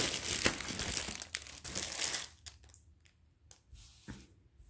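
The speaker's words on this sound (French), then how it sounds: "Bon, donc je vais couper." Paper being cut with scissors during a scrapbooking box craft project, a close, busy run of crisp crinkling snips that thins into a few sparse, quieter cuts and rustles.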